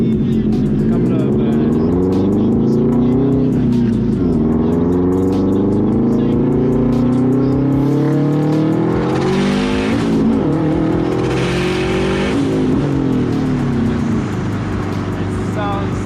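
A Subaru WRX STI engine revs hard and continuously from inside the car during a ride-along at 1.2 bar boost, rising and falling through the gears with brief tire squeal, while occupants talk over it.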